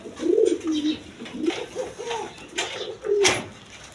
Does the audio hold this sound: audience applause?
no